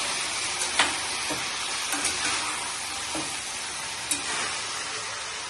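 Curry being stirred in a pan, with a steady sizzling fry throughout and a few soft clinks and scrapes of the spoon, close and moderately loud with no talking.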